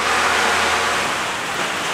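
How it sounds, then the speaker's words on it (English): Heavy rain pours down in a steady, dense hiss that fills the whole clip, with no voices. "Pouring down again, you'll notice, although we've had a long dry spell."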